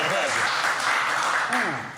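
A group of people clapping together, a dense continuous patter of applause mixed with voices and talk throughout.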